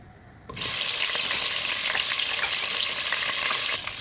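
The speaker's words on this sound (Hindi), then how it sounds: "अब उसी हंडिया में हम अपना गोश्त डाल देंगे," Frozen meat hits a hot cooking pot (handi) and fries with a sudden loud, steady sizzle that starts after a brief quiet moment and runs on evenly, with faint stirring.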